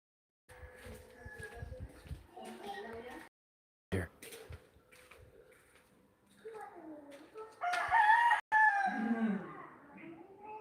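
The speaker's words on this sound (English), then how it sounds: "This guy's raising fighting roosters down here next door." Fighting roosters next door crow repeatedly, long rising-falling calls at moderate distance, with a louder, closer crow near the end; someone talks quietly in between.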